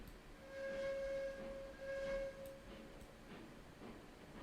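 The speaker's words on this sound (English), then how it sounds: "Nice quiet little whistle at this point" A steam locomotive whistle in the train game RailRoads Online gives two soft, quiet blasts in close succession over a low background rumble.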